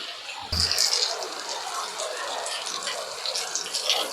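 Heavy monsoon rain sends water rushing through a street, a loud continuous gushing wash that surges suddenly and then holds steady, with no speech over it.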